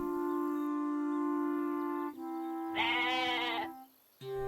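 A sheep bleats once, in a short, wavering cry set against sustained musical tones in a narrated children's story about a sheep.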